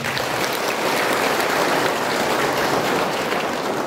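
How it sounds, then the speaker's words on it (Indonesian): A church congregation applauds a choir after its singing at a thanksgiving Mass for a priest's 25th anniversary, a dense, even wash of clapping that holds steady for the whole stretch. "Mari kita tepuk tangan untuk mereka."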